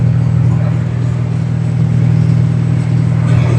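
A loaded semi truck's engine runs under light throttle, a steady low droning rumble with a constant deep hum, heard from the cab and continuous throughout.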